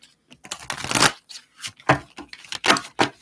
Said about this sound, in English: this is a thicker deck, so it may take me a little moment to shuffle